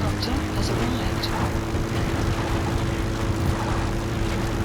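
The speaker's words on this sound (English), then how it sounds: "Support helicopter has arrived." A support helicopter arrives in the video game Metal Gear Solid 5: The Phantom Pain, its engine droning steadily nearby, a constant rotor hum with faint higher clatter, no talk over it.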